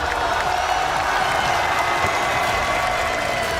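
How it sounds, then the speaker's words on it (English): Steady applause from a large esports audience at a League of Legends tournament, continuous clapping with some crowd noise, loud and sustained throughout. "Mesdames et messieurs, on peut applaudir HLE2"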